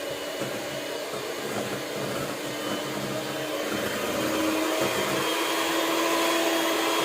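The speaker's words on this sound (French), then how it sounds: "Puis avec fouette électronique," An electric whisk beats cake batter with lemon zest in a steady, loud mechanical whir that grows slightly louder near the end, running alone without speech.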